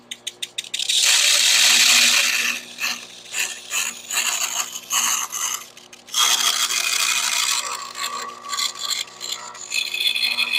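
Sandpaper backed by a wood block sands a metal edge on a Jeep YJ, making loud, close, rasping strokes in long sustained bursts separated by shorter scrubbing passes.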